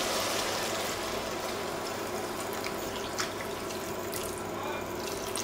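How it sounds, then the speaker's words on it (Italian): Glasses of water are poured into a pot of shrimp bisque, a steady close splashing and gurgling of liquid that runs the whole time with no talking. "Aggiungiamo 2-3 bicchieri di acqua."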